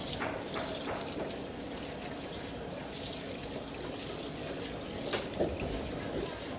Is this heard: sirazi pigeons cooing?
no